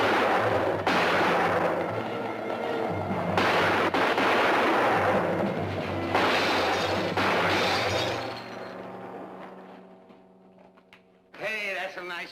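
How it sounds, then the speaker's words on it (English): Gunshots ring out in a TV western, The Big Valley, with several sharp reports spaced a few seconds apart over dramatic music before things quiet down and voices speak. "Hey, that's some nice shooting."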